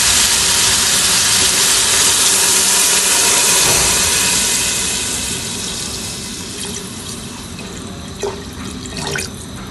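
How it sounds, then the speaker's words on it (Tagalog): Tap water pours into a pot for beef-innards broth with a loud, steady rushing stream that eases slightly partway through, followed by a few light clinks and drips near the end. "ngayon maglalagay na ako ng tubig para sa sabaw."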